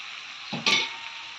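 Fish and chopped tomato frying in a pan, a soft continuous sizzle broken by one short burst of stirring and spatter around the middle, close by with no voices.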